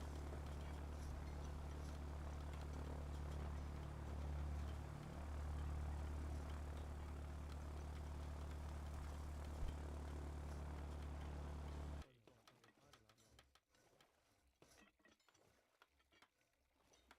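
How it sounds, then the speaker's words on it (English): A WW2 Spitfire's piston engine in the airbase-building video game Ground of Aces drones loudly and steadily, then cuts off abruptly, leaving faint low background sound. "Spitfire's back."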